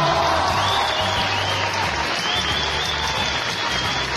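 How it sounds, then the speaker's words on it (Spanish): A crowd at an event for Martín Vaca in Orizaba applauds in a dense, continuous wash of clapping, mostly steady and fairly loud. A low hum sits underneath. "yo siento que ese aplauso no está como se lo merece el señor Martín"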